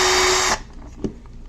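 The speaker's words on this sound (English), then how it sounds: "256 drill tap, I want to have to go deeper on that one." Short, loud whine of a power drill boring a hole for a 2-56 tap with a number 50 bit during work on a 69 Torino Talladega, stopping abruptly after half a second and followed by faint clicks.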